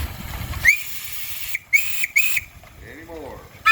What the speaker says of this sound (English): All right, you got a whistle.